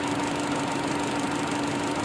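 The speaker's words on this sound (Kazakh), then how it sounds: "Мына моторы дірілдеп тұр." A Chevrolet Cobalt engine idles with one cylinder misfiring, a steady close rumble with a shaky, uneven vibration running without a break.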